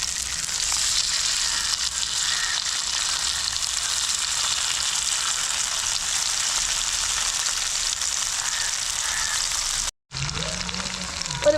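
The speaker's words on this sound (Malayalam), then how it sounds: "ബാക്കി മീനുകളും കൂടി അതുപോലെ തന്നെ നമുക്കൊന്ന് വറുത്തെടുക്കാം" Large sea blank fish fry in oil over a medium-low flame in a Kerala kitchen, giving a steady, dense hiss and crackle that runs unbroken until a brief cut near the end.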